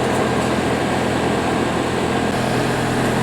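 A heat pump just switched on runs with a steady, loud broadband whir and low hum, unchanging throughout.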